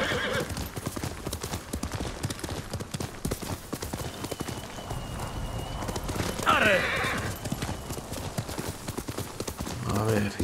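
Horse hooves clip-clop steadily through the Ghost of Tsushima game, with a whinny rising around the middle, all under continuous Spanish talk and game ambience.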